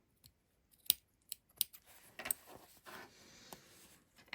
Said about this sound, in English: I'm going to trim right to that corner